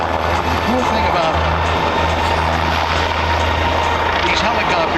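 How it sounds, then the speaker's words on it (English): A wide-body helicopter at an air show, its steady, loud rotor and engine drone filling the air continuously, with a commentator's voice over the public address. "wide body helicopter, too. Yeah. It's a big machine."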